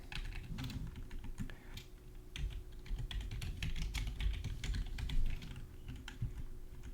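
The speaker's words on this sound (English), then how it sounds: "So what I'm doing right now is I'm typing in chat my role" Typing on a computer keyboard, a quick irregular run of close, crisp key clicks over a faint low hum, with no one speaking.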